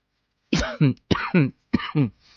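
Three pairs of harsh coughs close to the mic, each pair a quick double burst, with short pauses between them.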